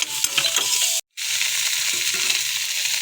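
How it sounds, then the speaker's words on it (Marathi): Paneer sizzles steadily in a pan while being prepared for a tawa pizza, a close, loud and continuous hiss with a few stirring scrapes and a brief cut near the middle. "पनीर हलकंसं आपल्याला परतून घ्यायचं आहे"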